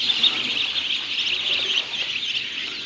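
Tiger chicken chicks, bred for sale at a poultry farm in Khulna, chirp together in a dense, steady high-pitched chorus that holds at an even level throughout, with no talking.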